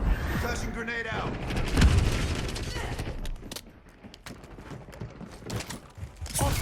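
Gunfire and explosive bursts during a Call of Duty Black Ops 6 multiplayer match, including a flashbang grenade going off: a loud burst near two seconds, then scattered shots and booms that thin out and pick up again toward the end.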